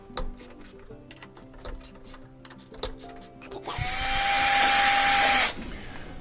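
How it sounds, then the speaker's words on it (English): A power drill with an extension and 1/4-inch socket whirs up loudly for a couple of seconds and stops, after clinking metallic clatter and tapping of sockets and 10mm bolts nearby, on an LG washing machine. "I just got a extension for my drill. 1/4 inch socket, comes off a little faster."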